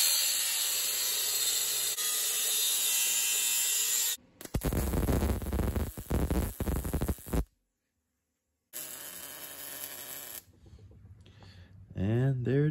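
A 14 mm metal socket is cut with a power tool in a workshop during a diesel motorcycle build, giving a harsh, loud grinding that starts and stops, with brief silent gaps between cuts.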